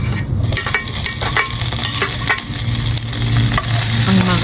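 Onion going into garlic already sautéing in a pan, a steady close sizzle with stirring scrapes and a brief louder hiss as the onion hits the oil.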